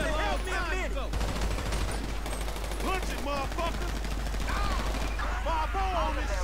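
Gunfire from above in Grand Theft Auto V: loud, dense bursts of shots and crackle running steadily through the whole stretch, with other game sounds layered over it.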